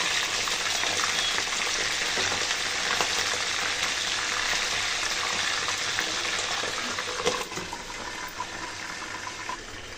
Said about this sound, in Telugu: ఆయిల్లో వంకాయలని బాగా డీప్ ఫ్రై చేసుకోవాలి.